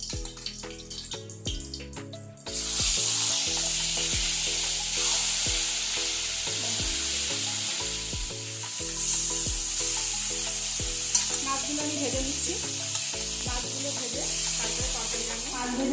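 Rui fish frying in hot oil in a wok, a loud steady crackling sizzle that swells suddenly and holds, with background music running beneath it throughout.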